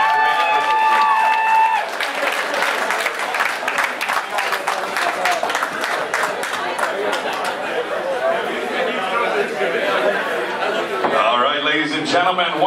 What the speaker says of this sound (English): Clap your hands for your winner